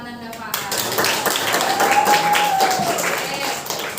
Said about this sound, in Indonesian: Tepuk tangan untuk Ananda Faas.